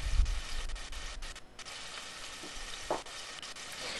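Ingredients for Puerto Rican stewed beans sizzle in a medium saucepan on medium heat, a soft, steady fry broken by a few light stirring clinks nearby.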